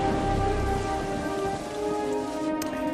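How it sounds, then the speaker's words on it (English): Heavy, steady rain falls in an animated Batman vs Dracula storm scene outside Arkham Asylum, a dense, loud patter throughout with no voices. "They made the rain and the lightning look realistic"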